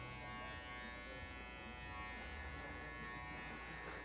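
An electric hair clipper fitted with a comb attachment works a fade haircut, giving a steady, faint, even buzz that holds throughout with no talk.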